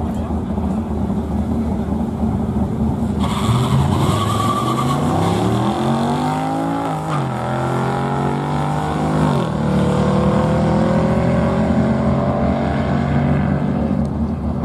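A 2020 Honda Accord Sport 2.0T and a 2010 Mercedes C63 AMG launching in a race. Engine roar climbs in rising pitch sweeps through gear changes, loud and close, while people talk excitedly over it.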